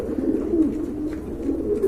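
A pair of pigeons in a loft coos in low, throaty rolling calls, steady and close, with no talk.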